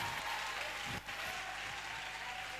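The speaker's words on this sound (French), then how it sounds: "On acclame très fort Jésus" A church congregation applauding and cheering during a worship service, a faint, distant wash of sustained clapping with a brief dip partway through.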